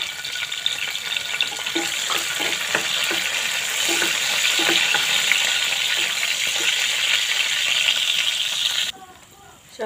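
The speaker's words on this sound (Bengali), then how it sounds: "আমি প্রথমে দারচিনি, এলাচ দিয়ে দিব, সাথে তেজপাতা, শুকনো মরিচ একসাথে দিয়ে দিব।" Cinnamon, cardamom, bay leaf and dried chilli sizzle loudly in hot oil with a steady, bright crackle and a few light clinks of stirring, before the sound cuts off near the end.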